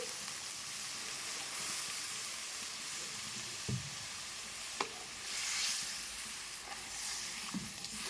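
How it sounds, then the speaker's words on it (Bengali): Water is added to fried spice masala in a pan for a gravy, raising a steady loud sizzle and hiss with a few knocks of stirring, close and unbroken, with no voices. "মশলাটা ভালো করে কষানো হয়ে গেছে এরপর দিয়ে দেব গ্রেভির জন্য জল"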